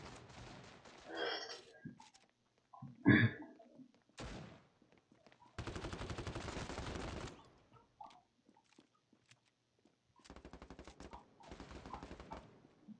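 Gunfire from an online shooter video game comes in bursts: a sharp shot or two early, then sustained automatic fire in long rattling volleys, fairly close and loud.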